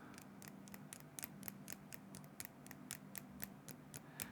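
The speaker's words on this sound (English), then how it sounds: "I'm gonna tap on this plastic figure now" Fingers tap a plastic figure in quick, crisp clicks, roughly a dozen and a half sharp taps at an uneven rhythm, close and quiet, with no speech.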